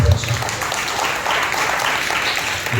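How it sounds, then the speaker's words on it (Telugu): A church congregation claps loudly together, a dense, continuous wash of applause filling the room for a few seconds. "బిగ్గరగా చప్పట్లు కొట్టి"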